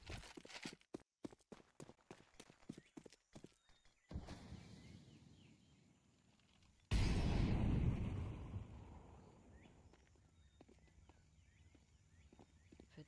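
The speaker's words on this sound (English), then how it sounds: "Footsteps certainly are heard here by Doc, but there's so many faces." Footsteps in Counter-Strike 2 during an esports match: a quick run of rhythmic clicking steps, then a low rumble, and a sudden loud blast that slowly fades into quieter scattered steps and clatter.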